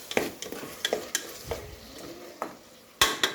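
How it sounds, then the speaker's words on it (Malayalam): Tomatoes being stirred into frying chicken curry in a pan: scattered scraping clicks and knocks from the spoon at an uneven pace over faint sizzling, ending with a sharper clatter. "തക്കാളി ഇട്ട് കൊടുത്തതിന് ശേഷം നല്ലവണ്ണം ഇളക്കുക."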